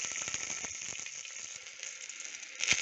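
Whole medium-sized tomato dropped into hot oil, a bright steady sizzle with crackling pops throughout, close and moderately quiet, flaring briefly louder near the end.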